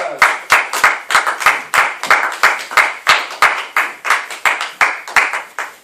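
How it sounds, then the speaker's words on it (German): A small audience claps at a village camp theater show, brisk uneven individual claps rather than a full roar, close and fairly loud, with no talking over them. "Nochmal einen großen Applaus"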